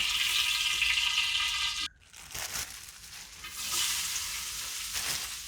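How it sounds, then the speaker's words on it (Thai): Oil sizzles and crackles steadily in a hot pan for stir-frying, loud at first, then a short break and a scraping stir before the frying hiss returns, with no voices. "ทีนี้เราก็มาผัดนะคะ ใส่น้ำมันลงไปค่ะ"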